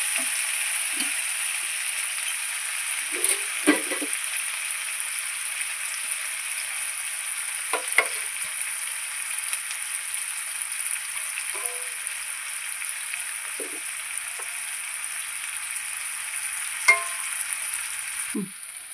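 Onions fry in a pan with a soft, steady sizzling hiss and occasional faint taps and scrapes, close but quiet and even throughout, with no voices.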